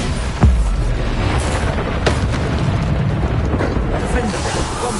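Bombarda spell blasts in Hogwarts Legacy, a sharp boom near the start followed by dense, continuous combat noise with further muffled bursts and mechanical clatter throughout.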